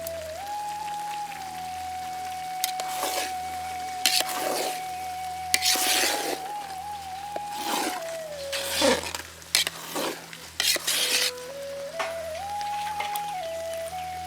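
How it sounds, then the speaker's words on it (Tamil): A spoon works through chicken biryani with yogurt in a pot, giving soft intermittent scraping and wet churning strokes, fairly quiet beneath a steady tonal background hum. "கறி உடையாத அளவுக்கு பிரியாணி நல்லா பெரட்டி விட்டுக்கலாம்"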